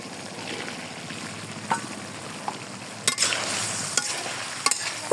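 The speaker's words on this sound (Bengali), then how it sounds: "এখানে আমি ঢেঁড়সগুলো দিয়ে দিব।" Okra goes into a shrimp curry frying in a pan, with a steady close sizzle broken by a few sharp scrapes and clinks of stirring.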